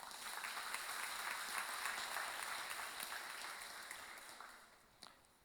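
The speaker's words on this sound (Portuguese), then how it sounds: "Vamos aplaudir o Senhor por isso?" Church congregation clapping steadily after an invitation to applaud during a sermon, a moderately distant, sustained patter that gradually thins and fades toward the end.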